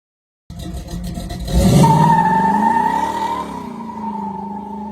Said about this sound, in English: the unmistakable roar of the Hemi coming into its power